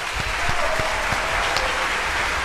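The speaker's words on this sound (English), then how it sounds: "Let's give them a round of applause, everyone." Audience applause for guests at a talk show, a steady dense clatter of clapping hands throughout.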